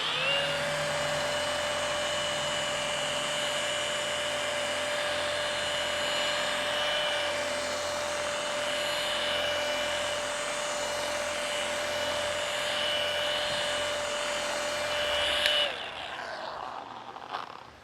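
A polisher with a foam pad runs at speed 2 over the stainless steel body of a Tesla Cybertruck, a steady high motor whine that holds evenly for about fifteen seconds and then spins down.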